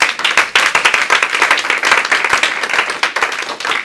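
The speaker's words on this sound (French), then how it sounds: "Acclame le Seigneur." A church congregation breaks into sustained applause, dense rapid clapping from many hands filling the room at steady loudness, with no speech over it.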